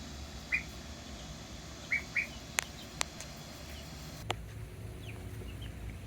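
Growing chickens in a backyard coop, a few scattered soft clucks and sharp chirps spaced out over quiet low background noise, fairly faint and distant.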